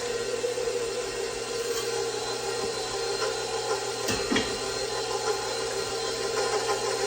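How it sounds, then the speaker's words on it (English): A KitchenAid stand mixer with the paddle attachment mixes yeast and milk for sourdough sandwich bread. It gives a steady motor whir with a faint rhythmic knock, close and even, with no one talking. "I'm going to start off my mixer with the paddle"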